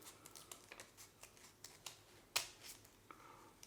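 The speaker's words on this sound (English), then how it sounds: "Then it's just a matter of making some cuts. You can cut triangles. You can cut half circles." Paper being cut with scissors into small shapes for Christmas decorations: a series of soft, close snips at an irregular pace, one slightly louder, over quiet background hiss.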